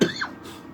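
A short, sharp throat-clearing cough from a man with a slight tickle in his throat, one abrupt burst followed by a brief rasping tail, close and fairly loud, with no talking.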